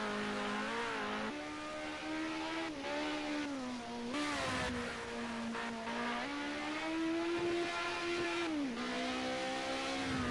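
A Group A touring race car on the Nordschleife holds a loud, sustained engine note with steady harmonics that rise and dip through gear changes, pushed hard throughout with no talk over it.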